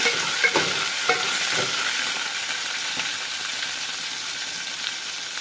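Chopped onion, garlic and green chillies frying in a pan for idli sambar, a loud, steady hiss of oil with a few clinks from stirring near the start, then an even sizzle with no voices.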